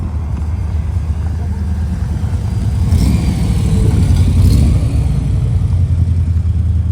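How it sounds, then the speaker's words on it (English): A Cobra replica car pulls away at a car meet. Its engine gives a loud, low rumble that swells as it moves off, with people talking over it. "The Cobra replica is leaving."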